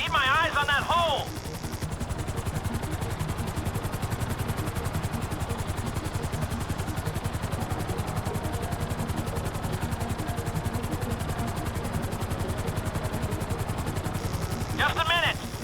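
Loud, steady rotor thump and chopping beat of a helicopter in GTA 5, holding in place at close range throughout, with brief radio-style voices at the start and end.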